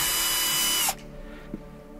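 A loud power tool whirs at close range, driving out dashboard screws inside a BMW being stripped, then cuts off abruptly less than a second in, leaving a quiet room and one small knock.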